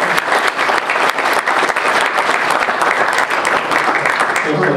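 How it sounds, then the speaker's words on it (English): Audience at a comic convention applauding in a steady, dense wash of clapping that holds loud and continuous throughout, with a few voices mixed into the crowd. "So another round of applause, please."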